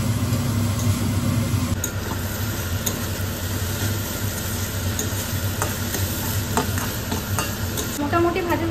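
Capsicum fries and sizzles in a pan while a utensil stirs it, with scraping strokes over a steady hiss and a low background hum, and no talking.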